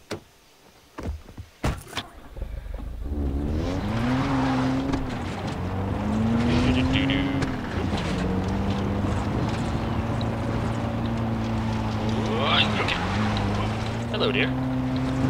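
A steady car engine drone from the video game Far Cry 3, with shifting pitch throughout, rising and falling as the car accelerates, loud and close, with a few brief knocks at the start.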